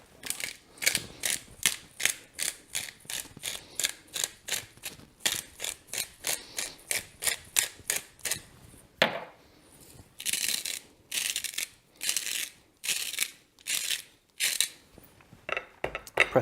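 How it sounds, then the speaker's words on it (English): A hand pepper grinder cracks coarse black pepper and salt over a New York strip steak, giving repeated rhythmic ratcheting crunches in quick bursts with a short pause midway, close and clear. "you want to season it very liberally with coarse black pepper and salt."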